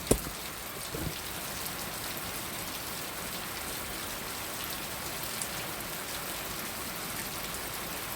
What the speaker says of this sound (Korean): 비 존나게 와.